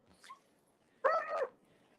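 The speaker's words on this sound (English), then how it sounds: "There's the dogs after that squirrel." A dog chasing a squirrel near a wooded ravine gives one short, whining bark-yelp about half a second long, fairly close, with a faint yip just before and quiet outdoor air around it.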